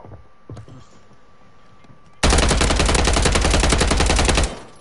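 Gunfire in a shooting video game erupts midway as a loud, sustained burst of rapid automatic shots lasting a couple of seconds, after a few quieter clicks and thumps.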